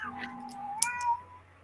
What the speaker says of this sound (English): At least Cat's going crazy.